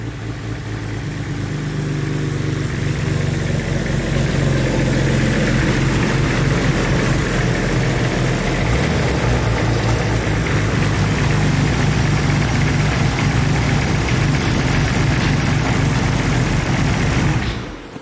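A Nissan Skyline BNR34 with 7,000 original km runs after a build, a close, steady, loud engine rumble holding at idle for most of the stretch before cutting off near the end, no speech.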